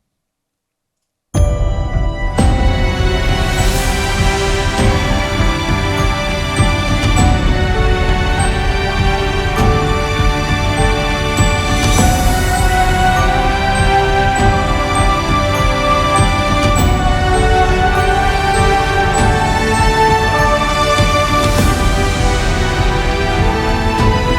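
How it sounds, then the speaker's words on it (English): After a brief silence, a full orchestra bursts in with loud, sustained brass and massed choir voices, a dense, majestic wall of sound that continues throughout. "we introduce the symphonic brass"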